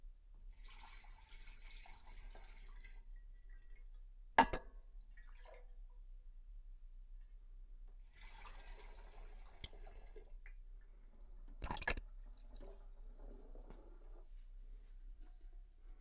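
Homemade tea wine poured into a fermenter, quiet intermittent splashing and trickling bursts separated by near silence, with a couple of sharp knocks or clunks.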